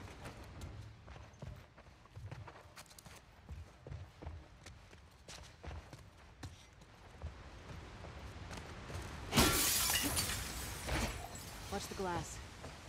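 Glass shatters in a sharp, loud burst partway through a scene from The Last of Us Part 2. Footsteps crunch and characters talk around it.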